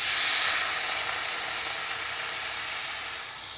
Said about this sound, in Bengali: আর এখন দিয়ে দেব জল